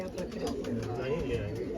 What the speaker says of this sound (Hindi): एक दुम के कबूतर है ये